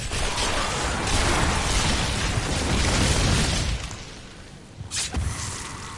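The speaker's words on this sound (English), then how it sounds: "activate that corpse explosion" Corpse explosion bursts in Diablo 3: a dense, loud rumbling blast-and-crackle wash for about four seconds, then quieter with two short sharp bursts near the end.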